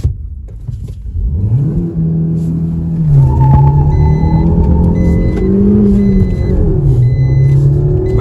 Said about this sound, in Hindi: तो भाई मैं अब ब्रेजा ड्राइव कर रहा हूँ